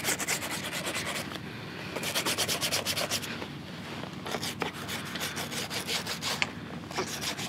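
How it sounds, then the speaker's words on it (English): A drysuit zipper gets scrubbed with zip cleaner, giving a close, rasping brush-on-teeth scrubbing in quick back-and-forth bursts separated by short pauses. "give it a good scrub."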